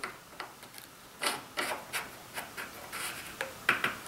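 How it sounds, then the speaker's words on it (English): A shaper work clamp slides along a rail, giving a series of short scraping rubs and light knocks, close and fairly quiet, spaced irregularly over a few seconds with no talking. "So now I can just slide this anywhere along the rail,"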